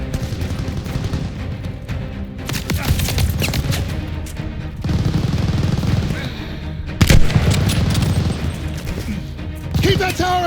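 Tower-mounted machine gun fire in the World War II shooter Call of Duty: Vanguard, loud sustained bursts and fusillades with heavy booms, rattling on through a chaotic battle with shouted voices underneath.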